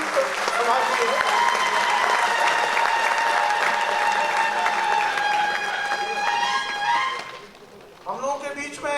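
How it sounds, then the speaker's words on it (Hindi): A crowd at a public gathering applauding loudly to welcome Shankaracharya, dense sustained clapping under music and a loud voice over a sound system, fading near the end as speech resumes. "जोरदार तालियां बजनी चाहिए, ऐसा लगना चाहिए कि जीवंत सभा की है।"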